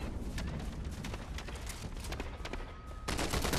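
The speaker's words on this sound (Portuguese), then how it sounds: "A Larissa tá atirando." Dense, continuous gunfire from a Fortnite match, with rapid overlapping shots and bursts filling the whole stretch, loud and busy with no voices.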